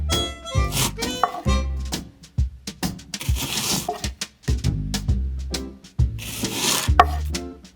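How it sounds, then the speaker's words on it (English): A knife slices a cucumber into small pieces on a cutting board in a tiny-kitchen cooking setup, giving a quick irregular series of close, crisp chopping taps and scraping strokes with no talk. "Slice cucumber into small slices."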